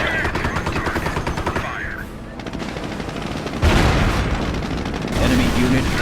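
Rapid machine-gun and rifle fire from the strategy game Company of Heroes crackles in dense bursts, with a louder heavier barrage midway and someone talking over parts of it.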